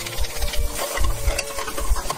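Sliced mushrooms fry in melted butter in a casserole pan for poule au pot, seasoned with salt and pepper, a steady close sizzle with scraping stirs, no voices.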